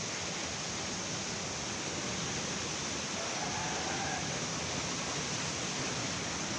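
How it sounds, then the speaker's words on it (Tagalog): A steady, full rush of flowing water, like a mountain stream, continuous and even with no other sounds. "Lakas ng tubig sa bundok."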